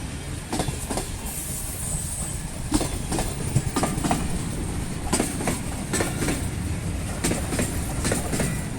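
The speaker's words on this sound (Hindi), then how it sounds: "जहाँ ट्रेन के चलते हुए ट्रैक साउंड बनता है।" A train runs along a railway track in Pakistan, with continuous rumbling and a steady clickety-clack of wheels over rail joints, close and loud throughout.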